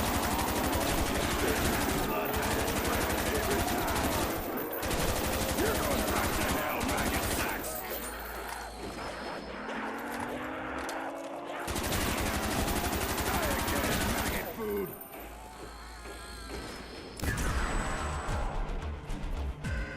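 Constant loud gunfire from a zombies shooter game, a Black Ops remake, with dense rapid automatic bursts running almost unbroken for the whole stretch and a few short pauses and shot changes in between.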